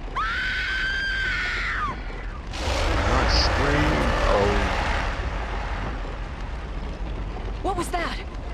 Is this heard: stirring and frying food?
no